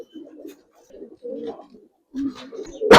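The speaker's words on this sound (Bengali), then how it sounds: "ভাই, একজোড়া সাপচিলা কবুতর দেখেন ভাই" Sapchila pigeons coo in close, repeated low rolling phrases with short pauses between them, ending in a sharp loud burst, with no talking.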